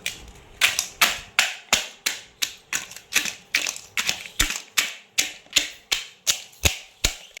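A steady run of sharp, evenly spaced knocks, about two per second, as a stone pounds and crushes crab up close, with no voices.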